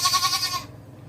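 Goats on a farm give a short, close bleat that wavers for just over half a second and then stops, with no voices.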